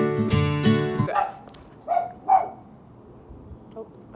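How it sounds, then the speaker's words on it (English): A dog barks at home, a few loud, close barks up front followed by softer, scattered woofs and yips that trail off into quiet. "Oh, my dog is barking and I don't know what at."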